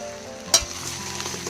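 Prasad food sizzles steadily in a large wok, with a sharp metallic scrape of a spoon stirring through it.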